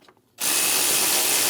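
A power tool abruptly kicks in and runs steadily at close range while snugging throttle body bolts on a 3.6L Jeep Grand Cherokee, preceded by a brief moment of faint handling.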